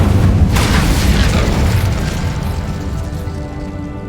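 A fire spell cast in Hogwarts Legacy bursts out as a loud, booming whoosh of flame that swells and then slowly fades over several seconds, with no voices.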